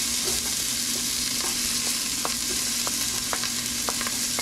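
Onions sizzling in hot oil in a pot, a steady close frying hiss with a few scattered crackles and pops throughout, no voices.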